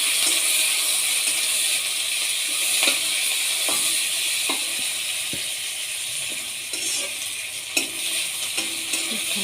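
Chopped onions fry in a pan with a steady, loud sizzle and hiss, broken now and then by the scrape and clatter of stirring.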